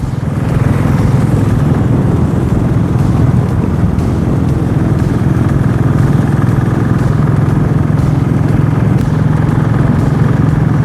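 Motorcycle cruising steadily at about 80 km/h on a group ride, its engine a continuous loud drone with wind rush, no talking, holding an even level throughout.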